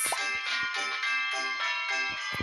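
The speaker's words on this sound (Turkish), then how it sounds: "Noel şarkısı çalıyor." A bright, jingly Christmas tune plays steadily in the Boom Slingers video game, its chiming notes pulsing in a regular rhythm at moderate volume with no talk over it.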